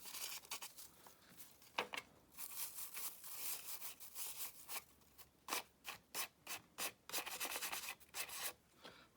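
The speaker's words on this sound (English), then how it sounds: "I just use one of these stippling brushes" A stippling brush rubs excess off a glued, alcohol-ink craft surface, producing close, soft repeated scrubbing strokes that quicken into a steady rhythmic run of short rubs, quiet and without talking.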